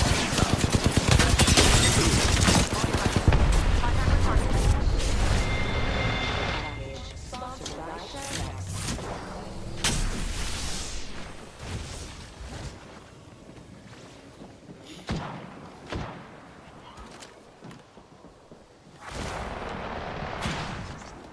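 Havoc rifle gunfire in a video game comes as loud, dense bursts of automatic fire up front, then thins into scattered shots and game effects over the rest of the stretch.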